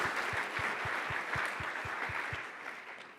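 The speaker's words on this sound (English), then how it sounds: "Give them a round of applause." Audience applause at a startup pitch competition session, steady and moderate, with a regular low thumping beat underneath that fades slightly at the end.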